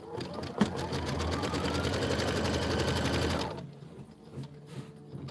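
A computerised embroidery machine stitches a trim and placement line on taut fabric in a quilting block, a fast steady mechanical whirr that runs loud and close for a few seconds and then stops.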